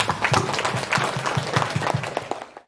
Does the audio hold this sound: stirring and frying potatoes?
no